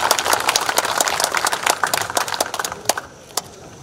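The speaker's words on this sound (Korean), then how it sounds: "이용태 이사장님을 뜨거운 박수로 맞이해 주시기 바랍니다" An outdoor audience at the opening ceremony of the Hakbong History and Culture Park welcomes a speaker with applause: dense, lively clapping that thins to a few scattered claps and fades out near the end.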